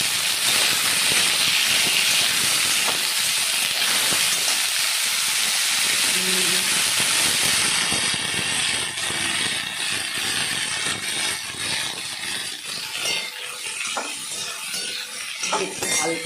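Carrot and cauliflower fry in a pan with a loud, continuous hiss that softens slightly over time, broken by faint stirring and scraping.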